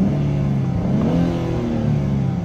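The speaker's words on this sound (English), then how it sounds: "So let's start with the interior exhaust note." A 2023 Nissan Z revving, heard from inside the cabin: a loud, steady, rumbling exhaust note that rises and swells across the whole stretch, with no talking.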